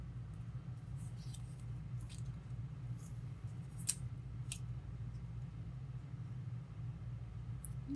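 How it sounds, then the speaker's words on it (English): Scissors cut through scored cardstock for a handmade card, a few faint, brief snips over a steady low background hum. "So we're going to go ahead and cut this off."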